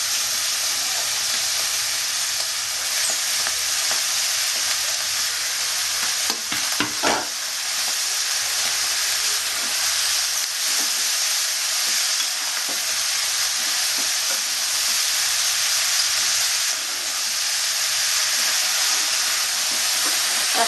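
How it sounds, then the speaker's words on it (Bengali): Shredded cabbage frying in a pan over a long stretch, a constant loud hiss and sizzle with occasional stirring scrapes and a brief cluster of utensil knocks partway through. "আস্তে নাড়তে থাকবো বাঁধাকপি দেবো আর নাড়তে থাকবো"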